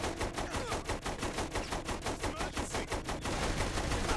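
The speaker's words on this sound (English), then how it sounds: "The cannon lacks accuracy a little bit." A vehicle-mounted cannon in a video game fires a fast, steady run of loud, booming shots with no gap between them, close and alone with no talk.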